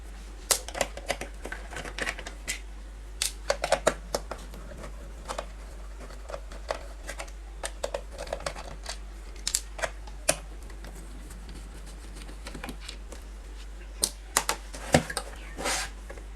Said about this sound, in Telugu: 6 స్క్రూలు ఓపెన్ చేస్తే బ్యాక్ సైడ్ ప్యానల్ ఓపెన్ అయిపోతుంది.